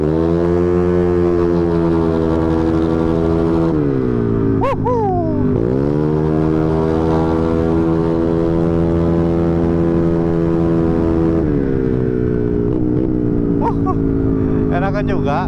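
A Honda Beat ESP 125cc motorcycle fitted with an Empush EM1 round exhaust rides through busy traffic, its engine droning steadily with a deep, buzzy tone that dips and swells as the throttle eases off and picks up again.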